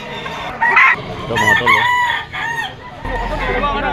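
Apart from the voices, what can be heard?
rooster stag crowing at pet market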